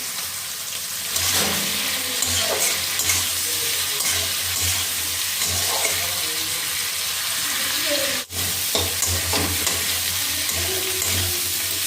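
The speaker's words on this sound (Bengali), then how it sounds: "তো চিংড়ি মাছগুলোকে আমি ভেজে নেব" Prawns frying in a pan for a home-cooked dish, giving a steady, close sizzle that holds through nearly the whole stretch with a brief dip near the end and faint background sounds.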